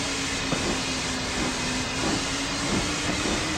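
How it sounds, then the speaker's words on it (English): A diesel multiple unit train passes in Train Simulator 2016, a steady hissing rumble with a sustained engine tone and faint periodic rail clicks, fairly loud and continuous with no talk. "There's a DMU."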